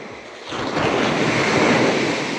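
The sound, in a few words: ocean waves at Chavakkad Beach, Kerala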